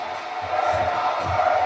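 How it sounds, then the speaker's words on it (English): A wrestling arena crowd yells and cheers in a steady roar, with rhythmic swells of chanting voices rising and falling over a dense crowd wash. "The crowd yelling, "We're not worthy here tonight.""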